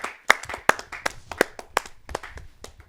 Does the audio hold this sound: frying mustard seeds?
no